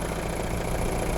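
A used car's dirty engine runs steadily, a dense, even rumble and whir that holds without a break from start to end, close and moderately loud.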